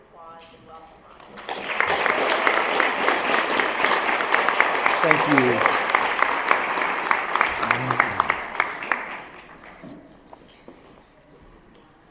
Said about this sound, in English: let's give a round of applause and welcome Ron